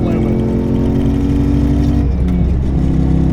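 LS3-swapped 575 hp Jaguar XJ8L V8 revving out in second gear, a loud, close engine note climbing steadily in pitch, then a shift or lift with a brief dip before the drone resumes.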